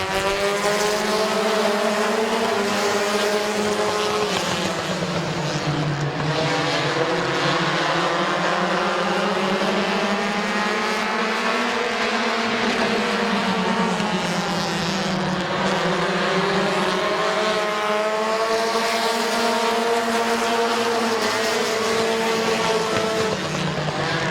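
Race cars at Midvale Speedway roar continuously at full throttle, several engines droning together with rising and falling pitch as the pack passes, loud and steady throughout with no voices heard.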